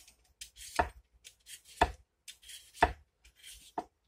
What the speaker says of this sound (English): I'm just going to peel it.